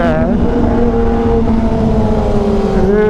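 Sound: motorcycle engine backfire

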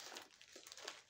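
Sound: gift bag crinkling

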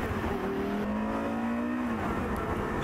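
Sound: Porsche Carrera GT engine revving

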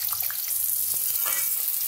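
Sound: potatoes frying in leftover oil

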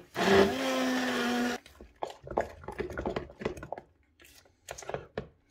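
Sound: blender pureeing curd cheese

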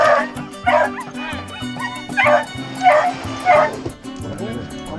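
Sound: hunting dogs barking and whimpering on a wild boar hunt

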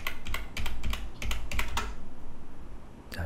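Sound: typing a password on a computer keyboard

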